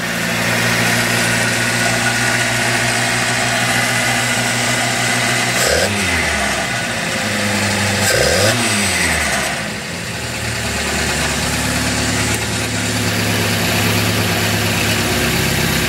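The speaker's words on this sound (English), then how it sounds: "Got a little bit of an exhaust leak right now" A Datsun 510 engine idles steadily throughout, with a rough, low rumble and occasional puffing from a leaky exhaust, plus a couple of brief revs.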